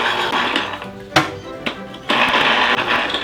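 An electric citrus press squeezes halved lemons, a whirring motor hum broken by a few sharp knocks and stops before it starts up again, loud and close.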